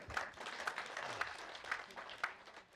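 At a customer meeting, an audience claps sparsely and faintly, with a handful of distinct sharp claps standing out over a soft murmur of scattered hands.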